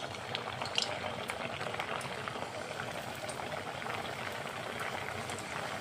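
Dense, steady crackling and bubbling of semolina puris frying in hot oil, continuous throughout with no voices.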